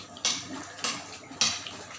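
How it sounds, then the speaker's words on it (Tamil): A metal spoon scraping and clanking against a pan while roasted rava upma is stirred, three sharp bursts of scraping in quick succession, close and fairly loud with no talking. "நம்ம அப்படியே கட்டி விடாமல் அப்படியே கிண்டி விட்டுட்டே இருக்கணும்."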